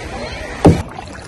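A single paddle stroke on a kayak, heard as a short, close splash and swish of water against a quiet outdoor background.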